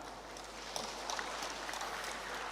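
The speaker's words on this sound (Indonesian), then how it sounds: "Mohon tepuk tangan." Audience applause in a hall during a university anniversary speech, a faint, distant wash of many hands clapping under room hum, steady throughout with no voices over it.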